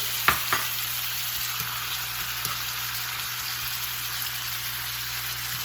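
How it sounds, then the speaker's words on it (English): Bacon, outside skirt steak and shrimp fry together in a pan with a steady, close hissing sizzle and a few light clicks of utensils near the start. "We have the outside skirt steak, shrimp, all cooking together here."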